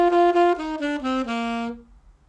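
A saxophone or clarinet plays about six smoothly joined notes that step downward, with clear, gentle articulation between them. The phrase ends on a held low note that fades out, with no voice.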